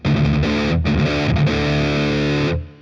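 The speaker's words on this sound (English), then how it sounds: "let's take our distortion and let's drive this up, see where we're at" Heavily distorted electric guitar running through a Waves GTR3 amp simulator in a metal setting, loud sustained chords with a couple of brief chugging breaks, ringing out and fading at the end, no voice.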